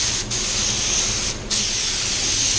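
A spray gun hisses steadily and loudly as it lays PPG waterbase coat onto car tail lights, with a brief pause in the spray partway through.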